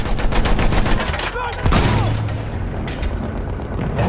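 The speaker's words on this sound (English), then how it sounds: "Machine gun! One of theirs!" Machine guns and other weapons fire in a Battlefield 1 battle, a loud dense barrage of rapid shots with booms and a whizzing round, while shouted voices cut in.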